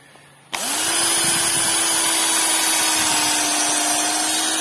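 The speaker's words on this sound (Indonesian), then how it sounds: "kita gunakan mata bor terkecil." A power drill fitted with its smallest bit starts abruptly, then whines loud and steady as it bores into a durian tree trunk, holding a constant pitch to the end.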